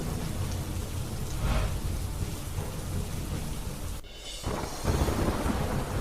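Torrential rain pouring down at Yamunotri in Uttarakhand, a dense, loud, continuous hiss with a brief dip near the end before the downpour surges back.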